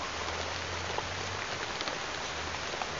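Heavy rain pours down steadily, a dense, loud, unbroken hiss of drops on surfaces with no speech.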